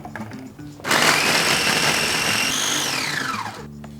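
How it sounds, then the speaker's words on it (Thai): A blender chopping garlic whirs loudly for about three seconds, its motor pitch rising then sliding down as it spins down, with quieter hum before and after. "อันนี้ผมก็จะร่นระยะเวลานะครับด้วยการใช้เป็น เครื่องปั่นนะครับใส่ลงไปได้เลย"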